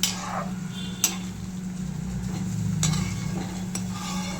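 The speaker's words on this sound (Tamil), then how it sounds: "இப்போ நம்ம மீடியம் ஃப்ளேமில் வச்சு கொதிக்க விட்டுட்டுருக்கோம்." A pot of goat head curry simmers on a medium flame with a soft, steady bubbling over a low hum, broken by a few sharp clicks and light taps.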